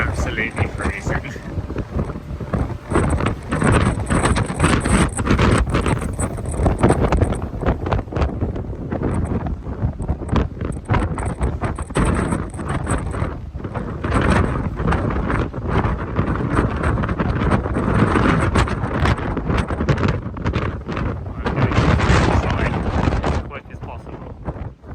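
Strong wind buffets the microphone in heavy, continuous rumbling gusts, with a voice talking faintly beneath the roar.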